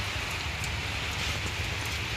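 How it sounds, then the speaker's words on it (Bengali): Light rain falls outside, a steady, soft hiss of drops on surfaces heard alone without any voices. "এই যে টিপটুপ টিপটুপ বৃষ্টি ধরতেছে।"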